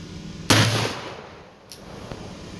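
A muzzleloader rifle loaded with 30 grains of FFF 777 powder and fired by a Remington Magnum No. 11 cap goes off in one loud, sharp blast with a decaying echo, followed by a fainter pop.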